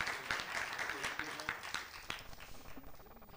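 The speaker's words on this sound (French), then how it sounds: "Donc, on peut les applaudir." An audience at a startup pitch competition applauds a team, a moderate steady patter of many hands clapping with a few sharper claps, tapering slightly, while voices murmur underneath.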